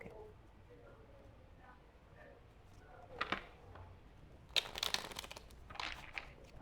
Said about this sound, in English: So let me just shuffle the deck.